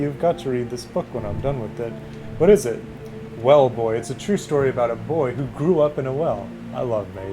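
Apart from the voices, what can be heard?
No distinct noise like a dog, phone or traffic.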